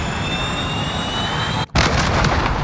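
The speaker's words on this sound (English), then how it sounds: "Cruise missile away." A cruise missile strike lands in a military shooter game, a steady roaring rumble with a sharp brief cutout before a heavy, dense blast wash resumes, loud and continuous with no talk.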